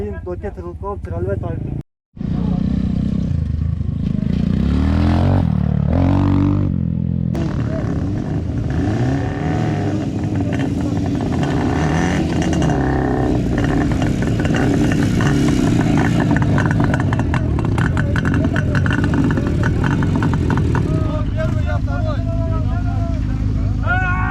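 Motorcycle engines rumble and rev at a motorcycle season opening enduro event in Batken region, Kyrgyzstan, running loud and continuous with people talking over them throughout.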